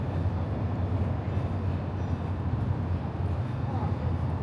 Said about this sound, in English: This is a metro stop.